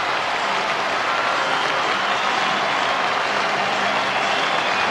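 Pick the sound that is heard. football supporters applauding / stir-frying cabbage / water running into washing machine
football supporters applauding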